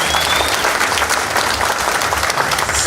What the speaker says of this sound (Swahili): Kumpigie makofi jamani.